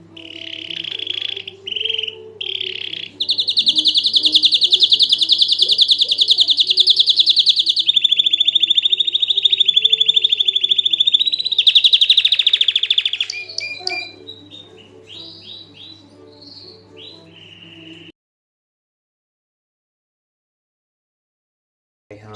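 Canaries and zebra finches chirp and trill nonstop in cages on a bird farm, bright and close, thinning to scattered calls before falling silent.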